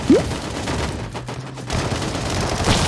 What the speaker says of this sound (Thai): ปืนสไนเปอร์ที่โหดที่สุดในเกมนี้นะฮะ M24